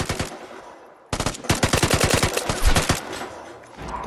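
Rapid automatic gunfire from the video game Vigor, loud close bursts of shots after a brief pause, with a dense fusillade continuing before tapering off.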